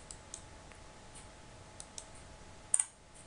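Sparse keyboard clicks from typing code on a computer keyboard, a handful of faint separate taps with one sharper double click near the end, over a quiet room hum.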